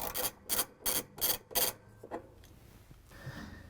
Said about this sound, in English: use a ratchet with the extension and the 9/16" socket to take off the nut that holds the pulley on